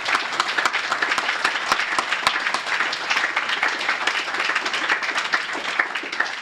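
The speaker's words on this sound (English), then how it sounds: "Will you please give our panelists a round of applause?" A room full of audience members applauds panelists at the close of a U.S. election results discussion event, dense steady clapping that fills the space evenly without fading.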